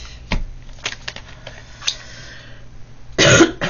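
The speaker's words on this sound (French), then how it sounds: "je vais tousser encore beaucoup parce que j'ai ma gorge qui se remet en place" A few scattered short coughs and throat noises, separated by quiet pauses, ending in a louder, harsher cough burst.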